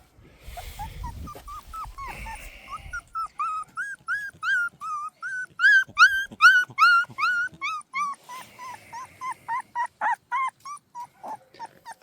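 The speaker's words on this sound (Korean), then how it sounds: "21차 흑구진도개 예, 수컷 강아지입니다" A 21-day-old black Jindo male puppy whimpers indoors: a long run of close, high, thin whines in quick rhythmic succession, with some rougher low sounds near the start and no talking.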